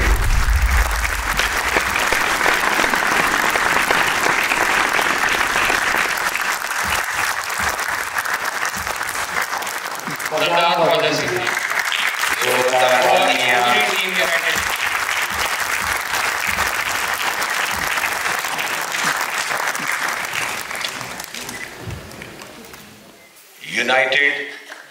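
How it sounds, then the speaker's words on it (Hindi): Sustained applause from a large audience at a Sikh arts and film event in India fills the space, loud and steady, with a few bursts of voices breaking through before it swells again. "जोरदार तालियां आपकी तरफ से बजती रहनी चाहिए"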